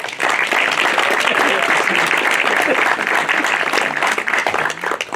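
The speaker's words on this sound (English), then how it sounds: "I think he deserves a round of applause." A round of applause at an evening book launch honors the emcee, dense steady clapping from the crowd filling the room throughout with no break.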